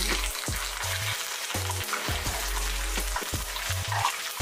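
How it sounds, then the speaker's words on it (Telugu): Dried red chillies and curry leaves frying in oil for an Andhra-style tomato pachadi, a loud continuous close sizzle with occasional scraping stirs, no voices. "కొంచెం మంచిగా ఫ్రై అవ్వాలండి."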